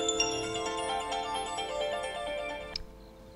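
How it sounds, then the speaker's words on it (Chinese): A mobile phone rings with a short melodic ringtone heard clearly at close range, then stops abruptly. "手机响了。"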